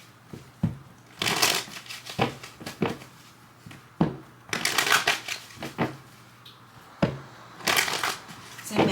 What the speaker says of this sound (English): Let me go ahead and shuffle.